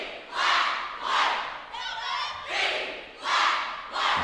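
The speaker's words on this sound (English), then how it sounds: "The local crowd is joining in with the cheer." A local crowd at a high school competitive cheer semifinal chants along in loud rhythmic bursts, four or five swelling shouts with brief gaps between them, echoing in a gym.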